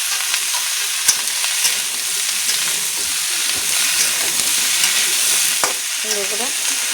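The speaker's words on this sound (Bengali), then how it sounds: "একটু ভাজা করে নেব মূলোটা।" Radish pieces fry in a pan, giving a continuous close sizzle broken by occasional scrapes and clicks as they are stirred.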